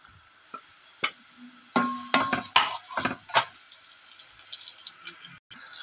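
Tomato, capsicum and carrot tossed into a pan with browned onion, faint sizzling under a run of close scraping and stirring strokes, then quieter frying.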